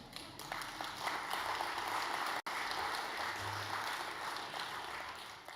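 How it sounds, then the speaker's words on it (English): An audience applauds Philippine President Marcos at a Lowy Institute event, giving dense, steady clapping from a large crowd in a hall that holds at an even level for several seconds. "you do deserve a round of applause for that"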